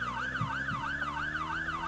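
A police car siren in Roblox Brookhaven wails, rising and falling in a fast, regular cycle, steady and moderately loud over a low engine hum.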